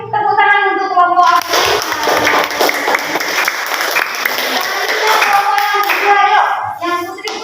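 Classroom children and audience applaud a girls' group, a dense burst of clapping lasting several seconds, with voices speaking before and after.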